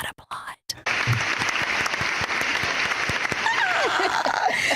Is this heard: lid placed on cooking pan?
no